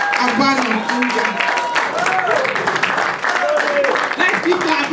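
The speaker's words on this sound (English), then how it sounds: "Let's keep clapping until he comes." An audience claps and shouts in a dense, sustained ovation welcoming Pastor Moses Abanum India onto the stage at a conference, with voices calling over the steady applause.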